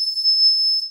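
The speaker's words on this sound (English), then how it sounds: "So now I open the door, and it should ring." The buzzer of a homemade 12V relay door burglar alarm sounds one steady, piercing high-pitched tone, loud and close, for under a second before cutting off.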